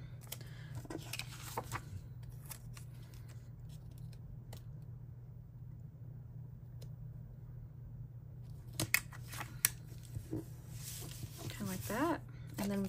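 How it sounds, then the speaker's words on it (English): Scissors cutting a sheet of planner stickers down the middle, a few crisp snips and paper rustles at close range, mostly near the end. "I'm going to cut down the middle"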